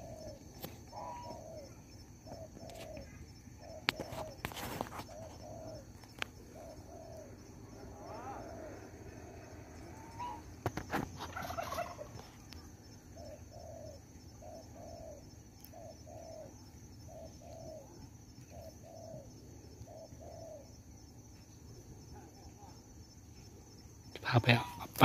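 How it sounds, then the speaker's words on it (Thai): A decoy spotted dove coos in repeated short phrases in a farm field on a very cold day, soft and steady, with occasional loud knocks and handling noises and someone speaking. "นกต่อยังคูอยู่นะ"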